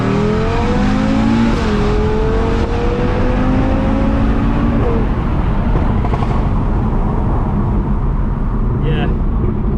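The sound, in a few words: tuned 2020 Audi RS3 accelerating with seamless gear changes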